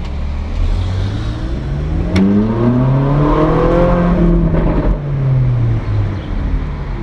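Ferrari engine at an autocross event, loud and close, revving up and down in sustained surges with pitch climbing and falling, no talking.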